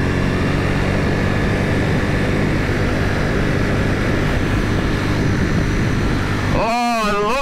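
Steady, loud engine drone from a 2021 Ducati Panigale V4S motorcycle being ridden, a dense continuous roar with wind, ending in a rising, wavering rev sweep in the final second.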